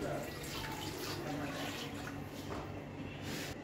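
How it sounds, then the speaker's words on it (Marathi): Water pours into a pressure cooker holding raw mangoes at home, a steady soft splashing stream heard close and continuous for a few seconds. "कैरीला वाफण्यापुरतं पाणी ठेवायचं त्याच्यात"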